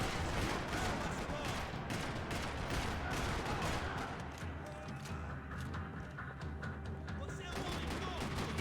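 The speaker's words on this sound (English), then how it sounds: "Another parking lot rattling with gunfire." Dense, continuous gunfire in the video game Max Payne 3, with rapid bursts and heavy booms in a parking lot, loud and sustained throughout, with a faint voice mixed in at times.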